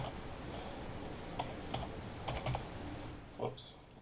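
Light typing on a computer keyboard while filling in a PowerPoint slide: a handful of soft, scattered key clicks, some in quick pairs, over a quiet room hum.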